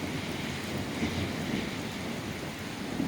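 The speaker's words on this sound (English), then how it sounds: "We're just getting a thunderstorm," A thunderstorm with steady rain falling outdoors near an apartment building, heard as a constant, fairly quiet wash of broadband rain noise with a low rumble underneath and no voices.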